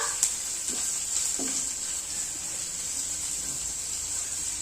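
Onion frying in about a spoon and a half of oil in a pan, a steady close sizzle and hiss with a few light stirring scrapes, no talking.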